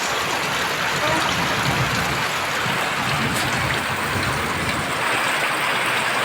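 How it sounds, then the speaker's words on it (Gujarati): Rain falls steadily inside a house, making a constant dense wash of splashing and dripping water that stays at an even level throughout, with no clear voices. "આ રીતે કંઈક પાણી પડી રહ્યું છે"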